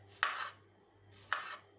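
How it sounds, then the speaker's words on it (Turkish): Two separate knife strokes dice salad vegetables on a board, about a second apart, close and crisp against a quiet background. "Salatamı küp küp doğrayacağım."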